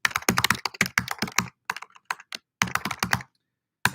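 Rapid typing on a computer keyboard comes in quick bursts of crisp, close key clicks separated by brief pauses, loud and alone.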